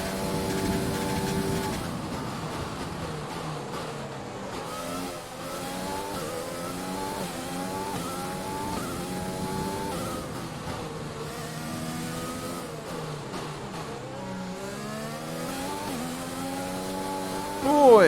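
Screaming V6 hybrid engine of a Formula 1 car on a qualifying lap at the Dutch Grand Prix in F1 2020, with pitch sweeping up through the gears and dropping under braking. Someone talks over the engine throughout.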